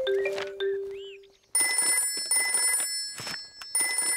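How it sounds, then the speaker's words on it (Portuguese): Telephone in a Peppa Pig cartoon, a bright electronic ring that sounds in several bursts with short gaps between them, loud and close, following a few brief cartoon sound effects. "O telefone de emergência."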